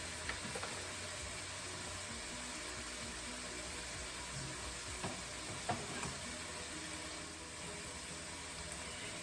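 Beef and green onions sizzle in a pan for a Japanese beef and mushroom bowl, a steady, fairly quiet frying hiss with a few faint clinks, alone without talk.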